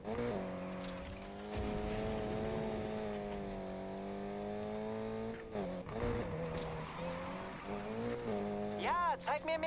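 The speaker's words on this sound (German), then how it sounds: "Das Auto dreht sich nur um Kreis hier." A drift car spinning in circles in the racing game Need for Speed Heat, its engine droning steadily for several seconds with tire squeal, then revving and skidding unevenly near the end, with speech heard over it.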